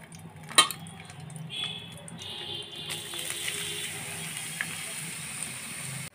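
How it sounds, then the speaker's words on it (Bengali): Grated carrots go into a pan for shahi gajar halwa, starting with a sharp metallic clank, then a steady frying sizzle that swells and holds close and moderately loud. "এখন দিয়ে দিব গ্রেট করা গাজর।"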